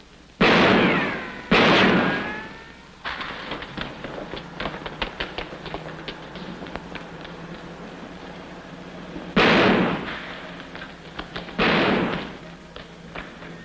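Gunshots ring out in a 1947 comedy film: two loud, sharp blasts early on and two more later, each with a short ringing tail. Quieter tapping and thumping fill the gaps between them.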